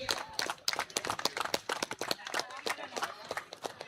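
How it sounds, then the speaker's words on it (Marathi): Scattered applause from a crowd at a cricket tournament prize ceremony, honouring a prize winner with uneven, fairly close clapping that carries on through the whole stretch, with faint background murmur. "आकाशसाठी जोरदार टाळ्या झाल्या पाहिजेत"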